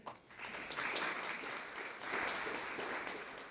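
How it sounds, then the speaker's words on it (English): A crowd applauding, a dense, steady clatter of many hands clapping that continues for a few seconds. "we'll give her a round of applause"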